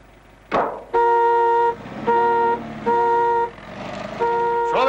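A car horn honks repeatedly, four loud sustained blasts with short gaps between them, preceded by a brief sharp sound, with no voices over it.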